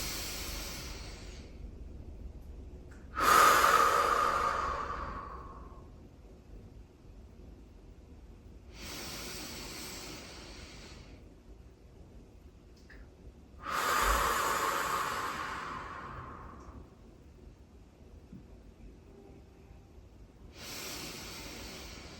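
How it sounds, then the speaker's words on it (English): Slow deep breathing by a person lying on a foam roller: two long, loud, hissing inhales and exhales, each stretching several seconds, followed by quieter breaths close to the microphone, with no talking. "So I'm going to take in 3 big breaths."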